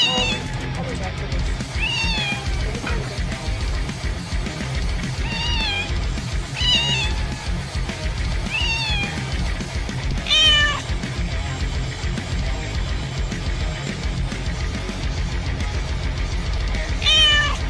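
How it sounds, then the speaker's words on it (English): Several cats meow in short, separate calls spread across the stretch, heard over a steady bed of background music and a voice talking, with the meows standing out clearly but not loudly. "The cutest cats of the week."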